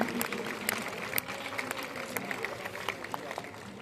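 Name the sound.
audience applause for a newly married couple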